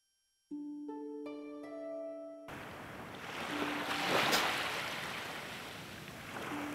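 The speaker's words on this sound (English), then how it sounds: "The waves keep coming and going." Ocean waves wash in and out in a broad rushing swell that builds and recedes, starting after a few soft piano notes, with a gentle melody continuing over the surf.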